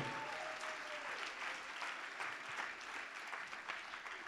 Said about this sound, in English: Round of applause for everybody and Drew.